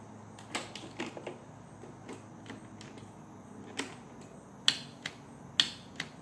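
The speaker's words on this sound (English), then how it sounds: "only the solenoid is clicking and the engine will not fire" A starter solenoid clicks repeatedly while the engine fails to fire: sharp, irregular metallic clicks, a few closely spaced and two louder ones near the end, over quiet background with no speech.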